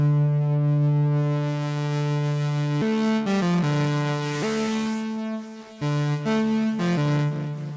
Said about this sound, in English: Let's have a listen to like the crackler.